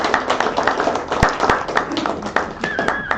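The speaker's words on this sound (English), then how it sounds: "So please give them both a big warm round of applause." A room full of people at a virtual reality meetup claps, with scattered hand claps and a few sharp louder claps over a low murmur of voices.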